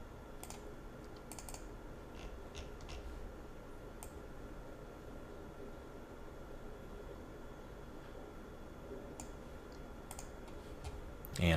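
Faint, sparse mouse clicks during computer work in a C# programming setup, a few light ticks scattered over a steady low hiss, with no other distinct sounds.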